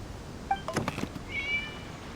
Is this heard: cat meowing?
yes